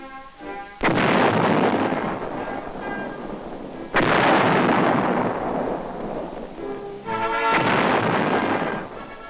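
Army tanks fire their main guns during 1960s training in Taiwan: three heavy booming blasts, each striking suddenly and rolling off in a long, loud decay, spaced a few seconds apart.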